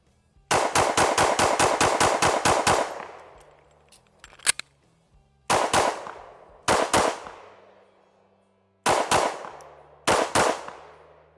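A ported CZ P-10C pistol fires rapid strings of crisp, close gunshots outdoors: a fast burst of about ten shots, then several pairs of quick shots with pauses between them and a metallic clink in one gap.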